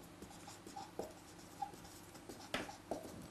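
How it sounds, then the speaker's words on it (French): Chalk or marker writing on a board during a French maths lesson on derivatives, short scratchy strokes tapping in an uneven rhythm, close and fairly quiet with no speech. "Je vais vous l'écrire."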